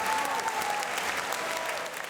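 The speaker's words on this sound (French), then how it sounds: "La salle entière de l'auditorium Régnier 3 a chaleureusement applaudi l'Orchestre Philharmonique de Monte-Carlo et son chef, Gianluigi Gelmetti" An auditorium audience gives warm, sustained applause to the Monte-Carlo Philharmonic Orchestra and its conductor, the dense clapping filling the hall steadily from start to finish at a moderate level.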